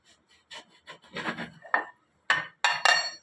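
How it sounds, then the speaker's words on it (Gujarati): A knife cuts through slices of bread for bread pakora, giving a series of soft dry rasping strokes, quiet at first and then louder and closer, with short pauses between cuts and no talking. "આ બ્રેડ છે એને આપણે આ રીતે કટિંગ કરી લેશું"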